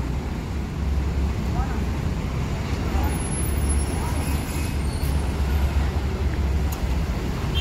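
Buses arriving from Bandung at the BSI bus ticket counter in Palembang in the morning, a steady low engine rumble with traffic noise throughout and a voice talking over it.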